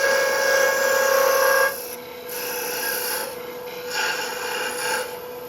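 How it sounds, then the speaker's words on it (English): A freshly sharpened parting tool cuts into a spinning wooden box on a lathe, giving a loud rasping scrape with a whining tone that then eases into quieter, uneven cutting passes. "It's a freshly sharpened parting tool."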